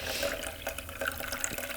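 Liquid pours gently and steadily in a thin, quiet stream while soy milk is being made, with faint trickling and no voices.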